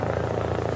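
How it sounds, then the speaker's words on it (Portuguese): A helicopter touches down at a hospital in Chiang Rai, Thailand, during a cave rescue, its rotor thudding in a steady, loud, close-up drone that fills the clip. "Assim que o helicóptero pousou"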